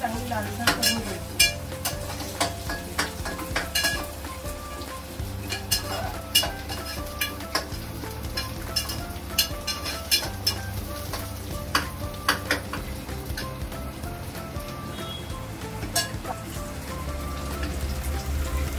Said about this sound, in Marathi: कांद्याला ना चांगली लालसर करून घ्यायची.